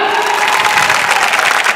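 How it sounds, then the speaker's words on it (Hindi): Children in an audience clap and cheer at a dance show finale, a dense, steady wash of applause and shouts filling the whole short stretch. "अपने इलाके में बोलना जोरदार तालियां"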